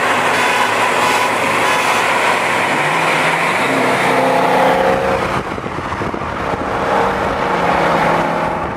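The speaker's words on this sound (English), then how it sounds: "We're going to go film Nate make a quick pull so we can hear the exhaust." Loud car exhaust roaring through a quick pull at an American muscle car event, the engine note climbing as it accelerates, then dropping back to a rumbling idle, with no talking over it.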